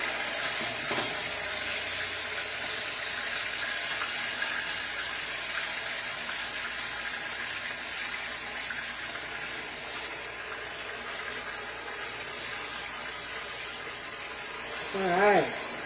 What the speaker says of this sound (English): Grease was a splattering